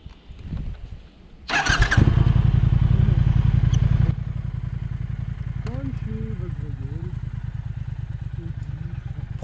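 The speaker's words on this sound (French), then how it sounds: "Comme tu as pu l'entendre lorsque tu la démarres, tout de suite tu as la banane. Le son est juste fabuleux" A Triumph Speed Twin 1200 motorcycle is started: a brief whir and clatter, then the engine catches with a loud roar and settles into a deep, throbbing idle from the exhaust, close by and steady, with a faint voice early on.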